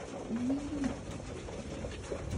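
A pigeon gives a low, drawn-out coo over a busy, noisy background, with a short faint second call later.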